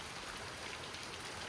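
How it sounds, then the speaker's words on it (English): Rain pours at a lake in a mild thunderstorm, a thick, unbroken wash of falling drops at steady loudness, heard alone for a brief moment. "I'm gonna get sick from all this rain"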